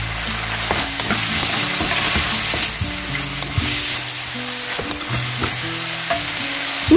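Chicken, asparagus and oyster sauce sizzle hard in a pan over high heat, with loud continuous frying hiss broken by repeated scraping stirs and tosses close up.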